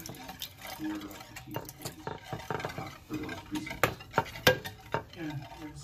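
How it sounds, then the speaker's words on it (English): A whisk clicks and scrapes rapidly against a dish while pineapple juice is mixed in, with uneven metallic taps, close and fairly loud. "Let me start whisking as I do this."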